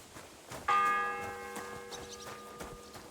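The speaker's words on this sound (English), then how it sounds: "The fourth bell." A single church bell strikes in the video game Kingdom Come: Deliverance II, a clear ringing tone that hangs and fades over faint background ambience and soft clip-clopping.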